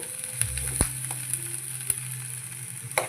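Onion, green chillies and coriander fry in a little oil with a soft, constant sizzle, broken by a few sharp clicks and taps of a utensil against the pan.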